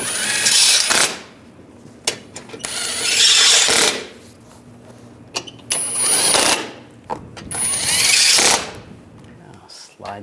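Bursts of a power tool or impact wrench whir in repeated spurts, tightening front lower control arm bolts on a 2013-2016 Dodge Dart, with short metallic clicks between runs and occasional talk nearby.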